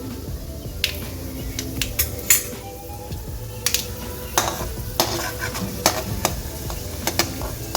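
Mustard seeds, cumin, chana dal and urad dal sizzle in hot oil with sharp, scattered pops and crackles spattering irregularly over a low steady fry, close and without talk.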